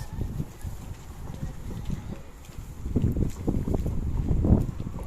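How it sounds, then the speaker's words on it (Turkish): Wind gusting steadily outdoors, a low rumbling buffet that swells and surges in bursts, louder toward the end. "Rüzgarın ne kadar estiğini."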